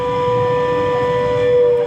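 A sustained air raid siren at the Pathankot airbase, India, before a blackout, holds a steady wailing tone for the whole short stretch, loud and unbroken.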